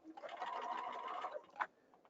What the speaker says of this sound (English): It's like we're serging it, but with the sewing machine